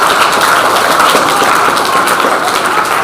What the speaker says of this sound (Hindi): तो रिधिमा के लिए एक बार सारे बच्चे जो हैं ताली बजा देंगे भाई